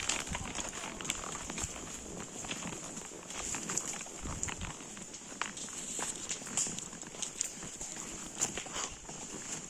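Horses' and mules' hooves clop steadily on a rough mountain trail, a continuous uneven patter of steps with a high hiss of insects or wind behind, at moderate distance.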